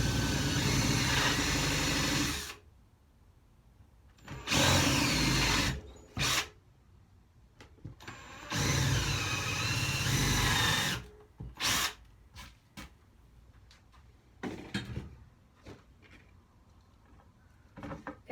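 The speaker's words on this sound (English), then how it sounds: "And I'm just going to drill again." A power drill fitted with a bit not meant for wood bores into a large wooden cheese board, whining in several loud bursts separated by quiet pauses.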